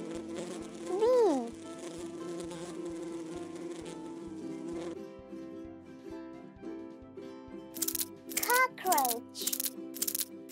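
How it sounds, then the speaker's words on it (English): Droning bee buzz with a steady hum and rising, wavering pitch sweeps, heard in short bursts alongside a voice and soft background music. "Bee."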